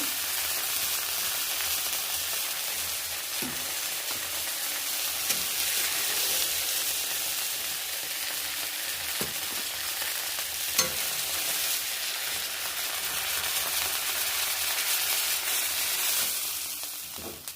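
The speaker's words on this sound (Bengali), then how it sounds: "এই তিনটে ভাজলেই সব মাছগুলো ভাজা হয়ে যাবে" Prawns fry in oil in a pan with a steady, even sizzle and hiss throughout, plus the odd faint clink or pop. No one speaks.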